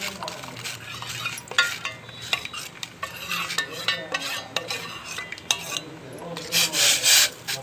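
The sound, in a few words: stirring Knorr hot and sour soup in a pot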